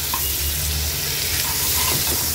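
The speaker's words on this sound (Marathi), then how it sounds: "एक एक करून सर्व तुकडे मी हे पलटून घेणार आहे।" Hilsa (pala) fish pieces shallow-frying in oil in a pan over a medium gas flame in Agri-Koli style, a steady close hiss and sizzle with faint scraping as the pieces are turned one by one.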